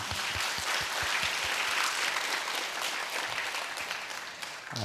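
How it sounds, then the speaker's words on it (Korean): Applause from a church congregation at an intercessory prayer school session, a dense, steady wash of many hands clapping that fills the whole stretch at even loudness. "하나님께 영광 박수 올려드리죠"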